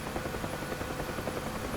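A UH-1H Huey helicopter in the DCS flight simulator flies low, its rotor beating in a dense, steady chop that stays loud and unbroken throughout.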